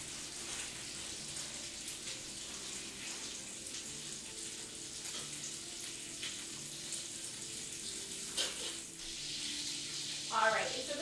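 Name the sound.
bacon frying in a pan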